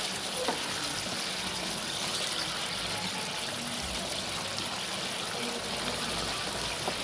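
Water is poured into a pan of cooking mushrooms, a steady, moderately quiet trickling stream that runs continuously with a faint background hum.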